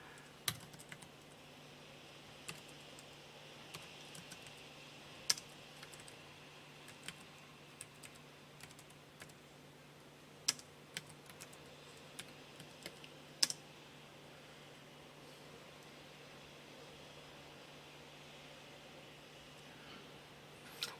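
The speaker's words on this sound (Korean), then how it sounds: "그 다음에 타이핑 입력해 주시면 됩니다." Quiet keystrokes on a computer keyboard, tapped steadily and unevenly over a low background hiss, with occasional louder clacks standing out from the soft stream of typing.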